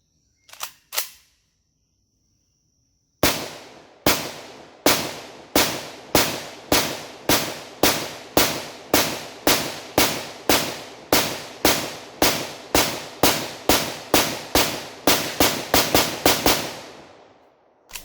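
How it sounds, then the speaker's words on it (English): An AK-12 rifle fed from a 45-round 5.45 magazine fires two close, loud shots, pauses, then fires a long steady string of about two dozen sharp reports that ends in a brief ringing tail. "Next, we'll be moving over to the AK-12."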